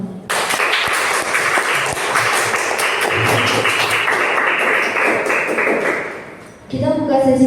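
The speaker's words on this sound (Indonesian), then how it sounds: "Mari kita beri tepuk tangan." Audience applause in a classroom after a group presentation, a dense sustained clatter of clapping that is close and loud, continuing for several seconds, then fading as a voice begins speaking at the end.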